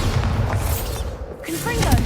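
Bombarda spell blast in the Hogwarts Legacy video game, heavy rumbling booms and gunfire-like cracks, loud and continuous beneath spoken game dialogue.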